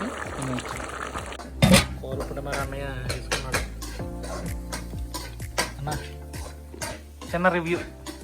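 Crab curry stirred in a pot, with repeated metal utensil scrapes and clanks against the vessel, a sharp knock early on, and a faint sizzle underneath.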